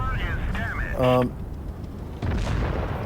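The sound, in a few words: tank gun firing in World of Tanks Blitz video game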